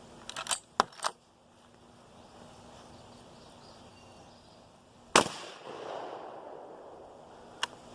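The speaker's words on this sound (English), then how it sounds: "I'll shoot the left side of the 2x12s." Rifle shots from a .30-30 fired into 2x12 boards outdoors: a quick pair of sharp cracks, then a louder single shot later with a fading tail, and one faint snap near the end, with quiet between and no voices.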